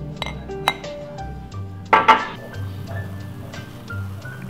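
Glasses clink together in a Valentine's Day toast, giving several bright, ringing chimes close up, with a louder cluster in the middle and faint tableware sounds around them.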